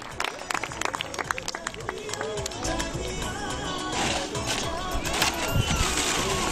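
Spectators at an electric model aircraft show clap in scattered, uneven bursts that thicken into fuller applause, mixed with crowd noise and voices.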